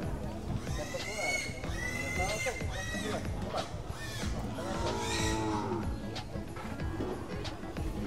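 Young water buffalo, carabao, mooing at a livestock market, several drawn-out lowing calls with rising and falling tones among other cattle, under background chatter of people talking.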